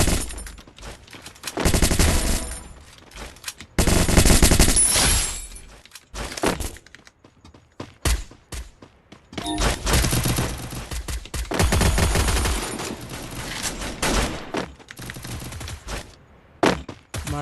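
Gunfire in a video game, dense bursts of rapid automatic shots and cracks in loud stretches separated by brief lulls, with scattered single impacts.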